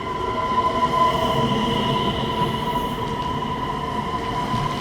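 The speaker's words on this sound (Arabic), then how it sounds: "طبعا القطار الان وصل، راح نتحرك الان." A train in Sweden pulling into a station, with a steady rolling rumble of wheels on rails and a sustained metallic whine and squeal, close and continuous.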